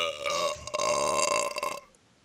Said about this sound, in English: Frequent burping has been linked with higher musical talent.